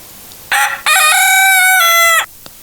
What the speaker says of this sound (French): Ah, c'est le coq.